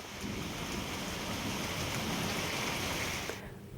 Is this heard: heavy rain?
yes